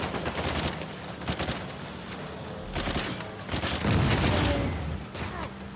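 Gunfire in the video game Uncharted 4, dense bursts of rapid shots and fusillades layered with game effects, loud and continuous, with someone talking intermittently.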